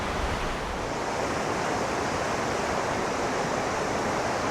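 A river flowing somewhere in rural Scotland, giving an even, unbroken rush of water that stays steady and fairly soft throughout.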